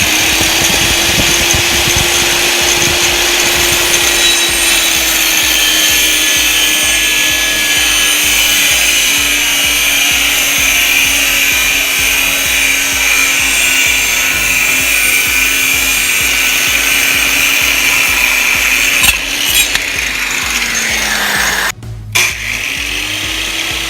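A power tool whines steadily and loudly while cutting a wood board to length for a trellis, one continuous cut running close and alone without talk, ending with a short clatter.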